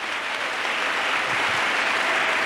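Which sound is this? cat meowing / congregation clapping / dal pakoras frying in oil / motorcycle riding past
congregation clapping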